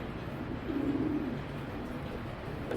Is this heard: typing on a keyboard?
no